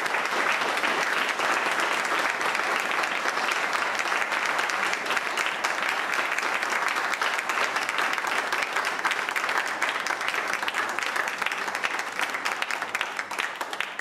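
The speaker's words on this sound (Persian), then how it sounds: "dieser Applaus sagt viel" An audience at a human rights summit panel in Bonn applauds after a speech, dense sustained clapping from a large crowd that holds steady for about fourteen seconds.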